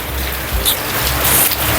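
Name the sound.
heavy rain pouring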